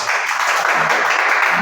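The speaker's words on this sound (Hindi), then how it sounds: "तालियां।" Steady, dense applause from a classroom of students at a computer institute during an accounting lesson, continuous and loud throughout.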